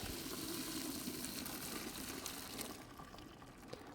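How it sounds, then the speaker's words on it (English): Cooked pasta is drained of its water, a steady rushing pour that is fairly loud and continuous before tapering off slightly toward the end. "So I'm going to drain it here."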